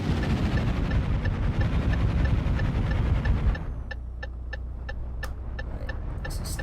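A Fiat FNM 210 truck in Euro Truck Simulator 2 pulls off in third gear, its engine labouring with a low, loud drone that drops to a quieter idle rumble with faint regular ticking.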